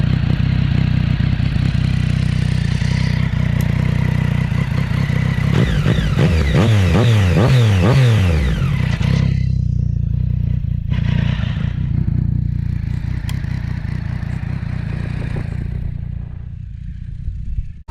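Motorcycle engine and exhaust recorded handheld on a GoPro Hero 7 Black in daytime, a loud steady idle rising into a revving surge midway with rattling clatter, then settling back to a rumbling idle.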